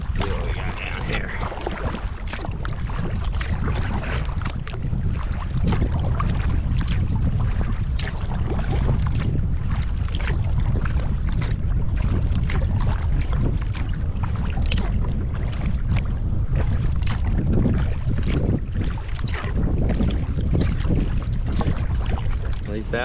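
Strong wind roars and buffets the microphone during a canoe paddle across the Ohio River, a loud constant rumble with faint splashing and a voice occasionally mixed in.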